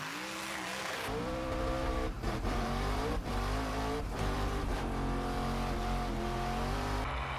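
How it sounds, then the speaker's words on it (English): A car engine runs roughly up close, its droning note faltering and cutting out briefly several times before picking up again; the engine has no filters. "The car's barely running."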